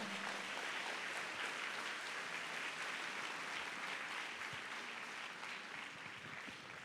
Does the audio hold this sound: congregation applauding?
yes